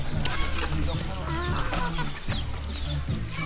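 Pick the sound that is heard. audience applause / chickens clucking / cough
chickens clucking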